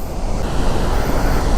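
Chitrakoot waterfall roars as water crashes down with force, a dense, steady, loud rush of noise with no pauses, heard on its own.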